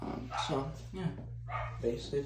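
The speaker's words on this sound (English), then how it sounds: "Sorry for the barking." A dog barks and yips in short bursts indoors in a room full of Lego, close by, while a person speaks over it.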